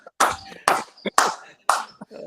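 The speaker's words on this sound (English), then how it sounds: "Round of applause." Four sharp, evenly spaced claps ring out close by, each one a crisp smack with a short gap of quiet between them, at a casual gathering.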